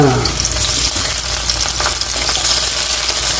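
Canned century tuna sautés in a hot pan, giving a loud, steady sizzle with bursts of crackling, heard up close with no talking.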